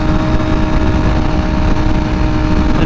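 A V4R motorcycle fitted with a new exhaust and air filter runs steadily and loud, a continuous rumbling engine drone with no talk over it.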